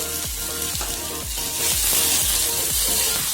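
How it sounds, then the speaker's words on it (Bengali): Eggplant with chopped tomato frying in a pan, giving a steady, close sizzle broken by regular stirring scrapes, with no one talking. "বেগুনগুলো হালকা সাঁতলানোর পর এর মধ্যে এই হাফ টমেটো কুচিটা দিয়ে দিলাম"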